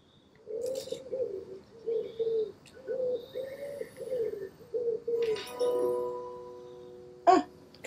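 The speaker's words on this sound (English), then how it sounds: "Ah, common wood pigeon." Common wood pigeon cooing in the wildlife game Alba: A Wildlife Adventure, a steady run of soft, repeated coos close by, followed by a brief sharper call near the end.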